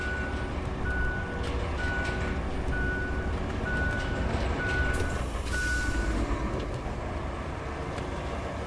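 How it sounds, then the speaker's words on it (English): A truck in the video game RoadCraft backs up with its reversing alarm beeping at a steady, evenly spaced rhythm over a continuous low engine rumble, the beeps clear and fairly prominent. "Backwards, just like going forwards, but with beeps."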